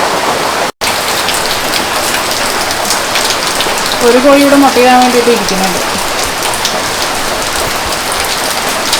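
Steady heavy monsoon rain in Kerala pours down throughout, a dense hiss of drops on surfaces, with a voice speaking briefly partway through.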